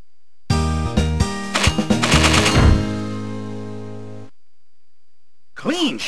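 Arcade gunshots in Trophy Hunting: Bear & Moose, a sharp cluster of rapid electronic blasts ringing out and decaying over a few seconds, followed by silence and then a synthesized voice line.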